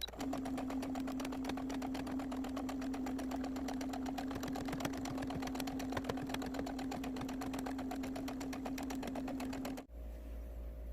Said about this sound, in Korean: 가생이 박음질 한 번 더 해서 통솔 마무리 하겠습니다